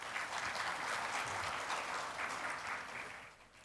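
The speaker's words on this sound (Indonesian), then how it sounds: "Ini tepuk tangan nih buat Bu Oja." Audience applause at a Ministry of Finance anti-corruption awards ceremony, a dense steady wash of clapping from a large crowd that holds strong throughout and then eases off toward the end.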